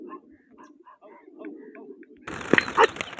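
Soft pigeon coos and faint murmuring come first, then a sudden burst of wing flaps and clatter as birds take off nearby at a pigeon-flying competition.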